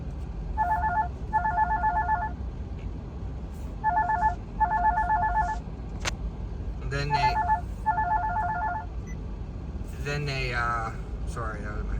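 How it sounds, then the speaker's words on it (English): A telephone rings in four bursts of a two-tone electronic trill, fairly loud and regular, followed by a person speaking. "sorry, that was my phone"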